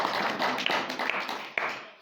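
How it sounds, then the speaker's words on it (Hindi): A church congregation claps for God's glory, a brief spell of loud, fairly rhythmic hand claps with a few sharper individual claps standing out before it fades. "परमेश्वर को महिमा के लिए जोरदार ताली बजाएं।"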